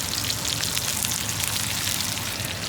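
Potatoes fry in plenty of hot oil in a pan, a dense, steady crackling sizzle that fills the whole stretch without pause and stays close.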